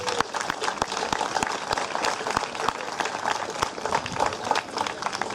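A crowd at an outdoor park rededication ceremony breaks into a steady round of applause, dense scattered clapping from many hands held at an even level throughout.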